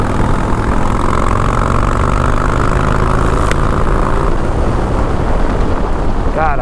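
A motorcycle engine runs steadily and loudly throughout, mixed with heavy wind rush at the microphone, with no clear changes in pitch.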